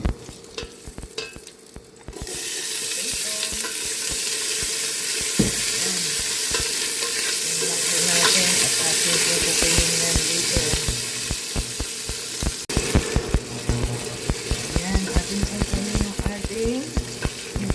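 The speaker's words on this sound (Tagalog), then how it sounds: "mainit na po ang ating kaldero at mag-stir fry tayo ng ating carrots" Loud, continuous sizzling of carrots being stir-fried in a hot pot, with scraping stirs and clatter growing sharper toward the end.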